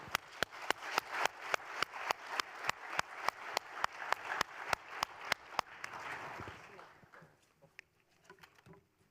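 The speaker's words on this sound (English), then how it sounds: "May I ask you to join me applauding the panel?" An audience at the IHRA Forum 2025 high-speed rail conference applauds a panel session. The clapping is steady and rhythmic for about six seconds, then thins out and fades.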